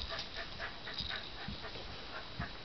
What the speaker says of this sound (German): Ein cooler dritter Hund.